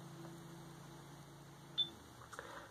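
A quiet single electronic beep from a new camera, brief and faint, following a low steady hum, with a few small clicks afterward.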